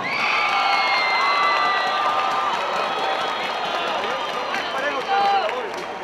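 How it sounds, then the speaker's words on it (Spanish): Crowd at a cockfight between Tigre de Santa Julia and Guayabita de la Goleta cheers and shouts loudly and steadily, with whoops rising near the end and an announcer's voice carrying over the noise. "¡Fuerte el aplauso!"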